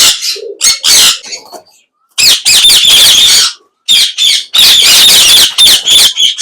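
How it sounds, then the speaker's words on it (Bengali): An albino ringneck parakeet at a bird shop gives loud, harsh squawks in repeated bursts separated by brief pauses, close and dominant with no voices over it. "একটা অ্যালবিনো রিংনেক দেখা যাচ্ছে"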